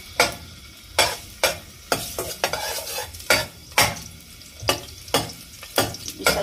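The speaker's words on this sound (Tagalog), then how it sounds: "Gisa-gisa lang to" Ginger stirred and sautéed in a hot pan, a spatula scraping in repeated strokes roughly every half second over a steady close sizzle, with no voices.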